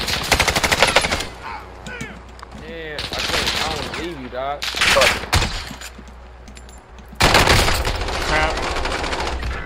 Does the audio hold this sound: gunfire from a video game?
yes